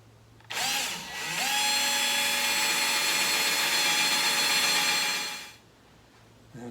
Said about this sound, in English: using my Ryobi oscillating tool and a rigid right-handed or right-angle drill head